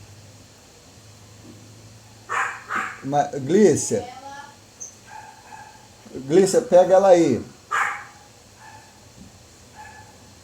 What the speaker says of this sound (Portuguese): Minha cachorra tá me incomodando aqui